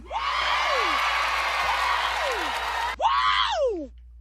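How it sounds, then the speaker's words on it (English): A dense crowd cheers loudly as a sound effect, with whoops and shrill rising-falling screams over the roar; it cuts off abruptly, then a second short burst of cheering follows and fades. "You cheering a little too loud."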